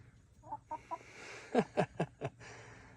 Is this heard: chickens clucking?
yes